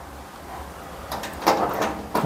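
A tool cabinet drawer slides open in a few short scraping, rattling bursts, faint and close, with no voices.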